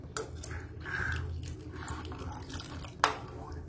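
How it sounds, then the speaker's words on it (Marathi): Water is poured into a pan of sorrel leaves curry. It makes a soft, continuous splash and trickle at close range, with a sharper clink near the end. "थोडंसं पाणी टाकणार आहे आता, कारण अजून आपली भाजी शिजणार आहे ना।"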